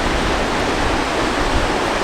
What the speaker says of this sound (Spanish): Chequen por acá el mar.